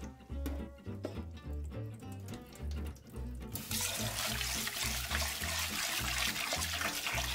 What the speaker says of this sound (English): remember to rinse it until the water becomes clear